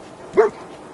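Dogmeat, the German shepherd companion in Fallout 4, gives a single short bark, close and moderately loud, standing alone against a faint low background.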